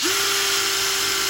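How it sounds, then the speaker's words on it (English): Power drill boring into the head of a stuck screw, a steady high whine that holds level and close throughout without pause. "we're going to drill the head off that, aren't we?"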